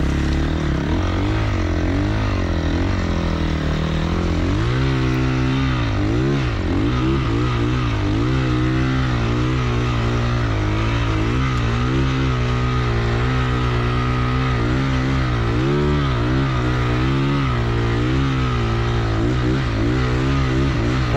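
Honda CRF450R snowbike engine revs and pulls continuously while riding through snow, a loud, steady drone with rising and falling pitch swings and no talk over it.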